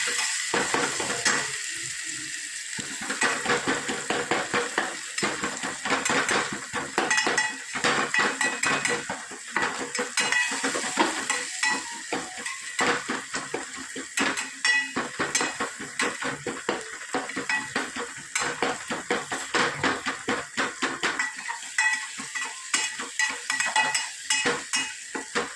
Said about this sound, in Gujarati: મસાલા આપણે સરસ શેકાઈ જશે